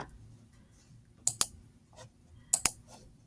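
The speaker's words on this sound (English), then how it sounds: "So I'm actually just going to type this in." Typing on a computer keyboard: two short pairs of sharp, close key clicks about a second apart, with a faint tap between, over an otherwise quiet room.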